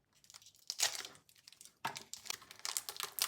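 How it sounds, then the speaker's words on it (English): A foil wrapper around a Polaroid film pack for an old SX-70 camera is torn open and crinkled, in bursts of close, sharp crackling and tearing with brief pauses between. "Okay, it's in some form of foil."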